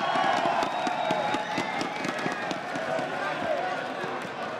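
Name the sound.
loud crowd at esports event, Campus Party 2014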